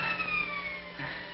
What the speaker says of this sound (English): Sounds like police sirens. It is the police.